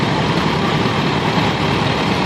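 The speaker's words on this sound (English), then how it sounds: "We have a 1949 Alice Chalmers B." A 1949 Allis-Chalmers B antique tractor runs at a steady engine drone during an agricultural expo tractor parade, loud and close with a constant even rumble.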